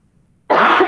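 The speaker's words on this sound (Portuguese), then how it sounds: "eu tô saindo de uma tosse forte" A single harsh cough with throat clearing bursts in suddenly after a moment of near silence, close and loud.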